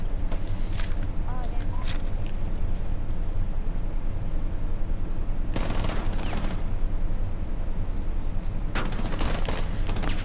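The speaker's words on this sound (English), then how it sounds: "those shots are getting really close and you're making me nervous" Gunfire in a Rainbow Six Siege match, heard as bursts of shots at about six and nine seconds over a constant low rumble of game ambience, with players talking throughout.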